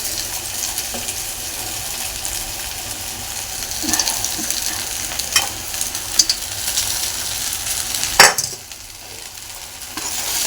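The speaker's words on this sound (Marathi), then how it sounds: "आता पोहे मिक्स करायचे आहे" Kanda poha mixed in a pan, a steady soft hiss and scrape of stirring with occasional spoon knocks against the metal.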